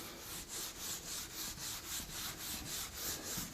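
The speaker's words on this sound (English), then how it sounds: "Now this will dry the more I sand on it or scrub it with my steel wool." Rhythmic, even scrubbing strokes with steel wool on wood, a soft abrasive scratch repeating about three times per second, close up and alone.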